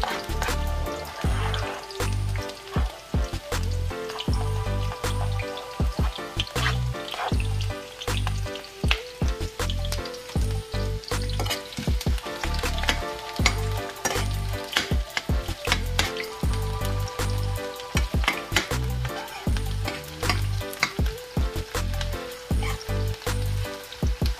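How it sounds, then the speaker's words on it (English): Onion, garlic and sweet pepper fry with corned beef in a pan, giving a steady loud sizzle with frequent scraping stir clatter throughout, no voices. "you add up the onion and garlic and sweet pepper"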